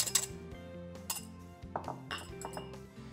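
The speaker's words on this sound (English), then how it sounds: "taking our egg whites, whisking our egg whites up, add some air to it" Egg whites whisked in a bowl, a rapid run of light metallic clinks and taps ringing close and clear, irregular strokes with short bright rings and no voice over them.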